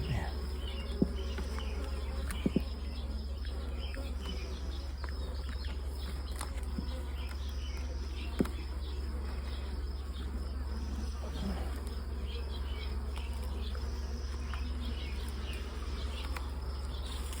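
A captured wild honeybee swarm hums inside an opened hive, a dense, steady buzz with a few individual bees zipping close by and occasional sharp clicks, with no voices.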